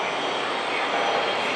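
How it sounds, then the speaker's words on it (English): Jet engines of a Boeing 757-200 airliner roar in a steady, continuous wash at an airport, fairly loud and unbroken for the whole short stretch. "Who chartered a 757-200?"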